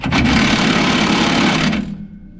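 An impact wrench on an extension spins off bolts on a trailer, one loud, close, continuous whirring burst of about two seconds that cuts off abruptly.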